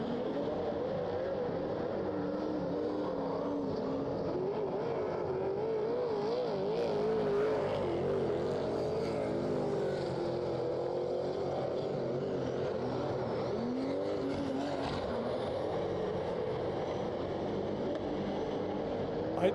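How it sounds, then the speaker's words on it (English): Super saloon race cars roar around a circuit in a continuous loud engine drone that rises and falls as they accelerate, steady throughout with no clear gaps. "Look at Bingstein out in front, that car's just hauling it."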